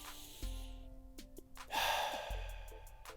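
Deep breathing during a yoga back stretch, with a long, audible, airy exhale in the middle, heard close and soft among quieter breaths and faint background hum.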